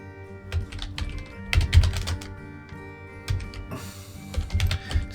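Keys clack on a computer keyboard while a file name is typed: quick, uneven bursts of close, crisp keystrokes with short pauses between words and a few louder thumps.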